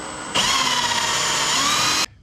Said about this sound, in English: Drill the bigger hole